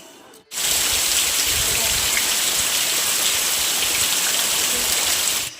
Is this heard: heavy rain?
yes